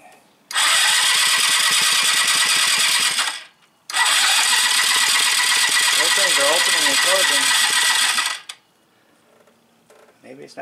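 A 1986 Yamaha Riva scooter engine cranks on a weakening battery in two long bursts of about three and four seconds, loud and close, with a short pause between them; the engine never catches and goes quiet afterward.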